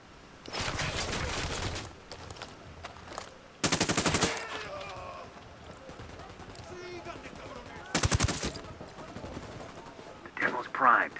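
Automatic gunfire in Ghost Recon Wildlands, three sharp bursts of rapid shots spaced several seconds apart, with voices and game sounds between them.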